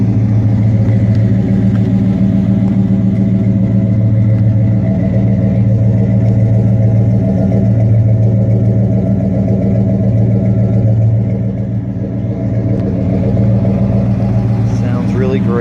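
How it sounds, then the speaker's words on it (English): A 1972 Chevelle with a big-block engine and turbo 350 transmission rumbles steadily at close range, a loud, deep exhaust note holding through the whole stretch with a slight dip near the end. "Let you hear that exhaust note."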